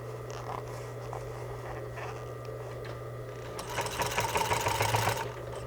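Sewing machine stitching a curved fabric seam, its steady motor hum running throughout and growing into a louder, rapid rattle of needle strokes near the end.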